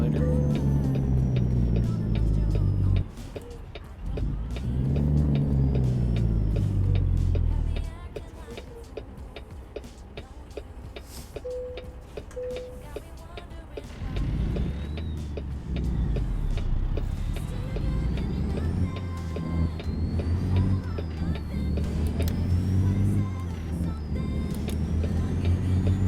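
A Peterbilt 389 truck with a ZM3406 engine sound mod in American Truck Simulator drones steadily and loudly, its engine pitch shifting as it works through gears, with ticking clicks and brief dips during shifts.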